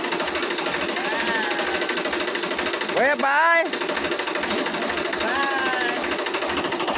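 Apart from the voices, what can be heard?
tractor engine running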